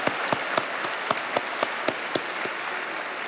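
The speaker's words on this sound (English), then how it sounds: "I want to give a round of applause for Ariel for an incredible introduction" An audience claps at a university speaker-series event in a hall, with about a dozen sharp, fairly spaced claps standing out over a soft, steady bed of applause.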